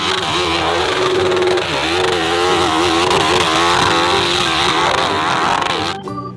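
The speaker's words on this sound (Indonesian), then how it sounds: "Wih, ada motor racing," Toy racing motorcycle engine buzzing loudly and continuously, with a wavering, revving pitch throughout and a brief drop near the end.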